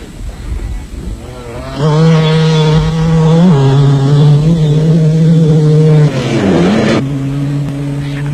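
An off-road racing motorcycle at the 1991 Thaba Nchu Sun 500 in South Africa drones loudly with a steady engine tone on dirt roads, briefly dropping in pitch before settling back.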